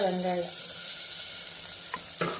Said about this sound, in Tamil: வெங்காயம் கருவேப்பிலை எல்லாம் போட்டுருங்க. போட்டு நல்லா வணக்கணும்.